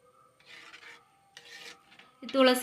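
Spoon stirring herbal chutney with cooked lentils, leaves and coconut milk in a pot, making three close rasping scrapes, the last one louder and sharper, with quiet pauses between.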